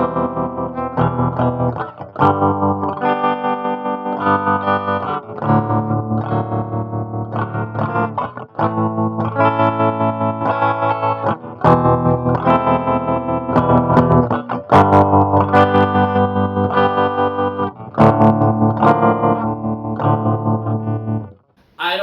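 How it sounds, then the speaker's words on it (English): Clean electric guitar with a tremolo effect plays through a Line 6 Spider IV 15W amp, strummed chords with a steady pulsing throb, loud and close, unbroken and without talking. "I'm gonna go back to clean and do the tremolo."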